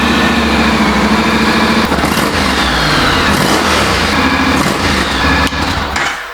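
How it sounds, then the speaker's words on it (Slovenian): Honda Forza 750 scooter with its original stock exhaust, running close and loud: a steady, dense engine drone with slight rises in pitch like light revving, continuous for several seconds and without talk. "bomo pržgali motor z original auspuhom"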